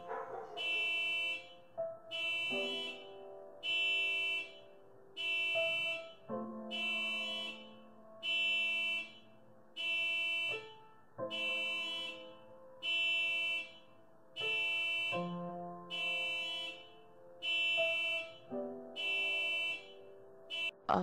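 A car alarm in The Cat Lady horror adventure game blares in a steady repeating cycle of loud, evenly spaced electronic pulses that runs for the whole stretch, with no talk over it.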